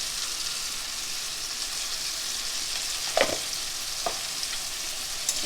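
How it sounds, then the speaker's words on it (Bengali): Salt, turmeric and chili powder fry in a pan with boiled potatoes and peas for chana, giving a continuous sizzle with two brief scraping stirs, close and steady with no voices. "এগুলো দিয়ে একটু ভালো করে কষিয়ে নেব।"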